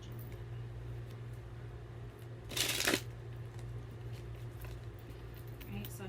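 Oracle cards being shuffled in a single brief riffle, close and fairly loud against a quiet room with a low steady hum.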